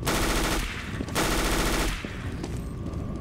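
Rapid automatic bursts of MP9 submachine gun fire in Counter-Strike: Global Offensive during a pro match, two long loud strings of shots separated by a short gap, followed by scattered quieter gunfire.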